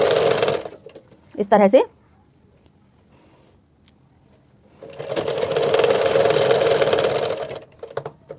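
Sewing machine stitching elastic onto a palazzo pant, with a short burst of stitching followed by a longer, steady run lasting a few seconds, close by, with someone speaking briefly before it.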